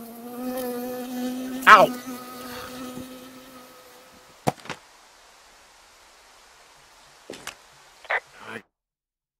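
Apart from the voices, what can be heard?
bee buzzing in the Firewatch video game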